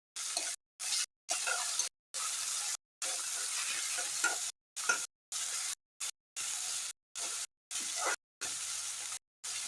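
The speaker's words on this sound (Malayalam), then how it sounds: "തക്കാളി ഇട്ട് വാട്ടണം" Chopped tomato and onion sauté in a hot pan for sabudana upma, a steady frying sizzle broken by repeated stirring scrapes in short chopped-up bursts, close and fairly loud, with no voices.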